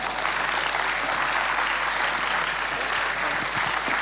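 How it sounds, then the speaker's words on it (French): Audience applause at the 2017 Excellence Trophies awards ceremony, a full, sustained burst of clapping from a large room, loud and even for the whole stretch with no talk over it. "On les applaudit bien fort."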